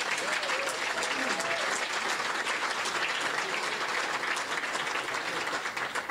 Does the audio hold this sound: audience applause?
yes